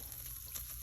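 A pot of water with baking soda boils as a steady, faint bubbling hiss, continuous and close, with no voices.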